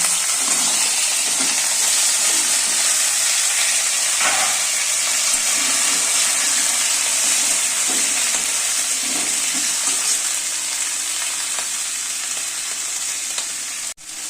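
Pumpkin, potato and eggplant pieces sizzle steadily in a hot pan with ginger, a loud, even hiss with a few stirring scrapes and no talking.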